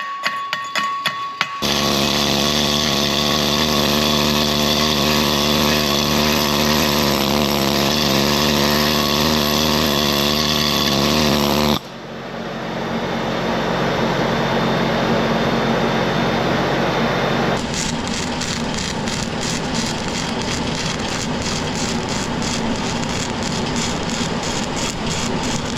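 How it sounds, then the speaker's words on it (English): An HTP Freedom 3000 Pulse welder runs on 92 amps in pulse stick welding, giving a loud, steady buzzing hiss that shifts tone partway through. The last stretch has a fast, regular pulsing flutter, and no one speaks. "We went ahead and got this shot of the HTP Freedom 3000 Pulse while we were welding."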